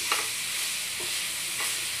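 Maggi noodles with masala are tossed and stirred in a pan over high heat: a constant sizzling hiss with three brief scraping strokes of the spatula, close and steady.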